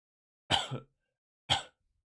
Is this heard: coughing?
yes